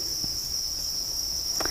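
Farmed crickets chirp steadily in a rearing enclosure during evening feeding, a continuous high-pitched trill running throughout alongside faint low background noise.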